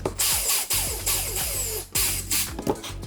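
A power drill whines in several short bursts while drilling holes in a wooden entertainment unit door, its pitch rising and falling as it bites into material, close and fairly loud.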